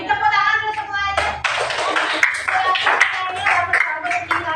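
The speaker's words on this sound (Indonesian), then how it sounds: "Kita tepuk tangan dulu semuanya" Fifth-grade schoolchildren in a classroom clap their hands, a close, loud burst of claps mixed with tonal ringing sounds and voices talking throughout.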